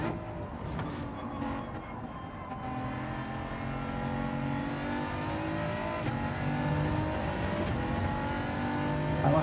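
BMW race car in a racing video game, engine droning steadily and rising through the gears, harmonics climbing with a few shifts, loud and continuous with no talk.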